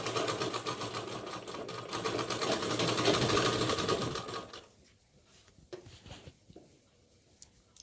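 A sewing machine runs steadily while stitching a blouse, a loud continuous whirring for about four seconds, then it stops, leaving a few faint clicks and handling noises.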